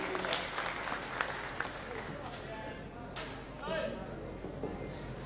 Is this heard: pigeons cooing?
no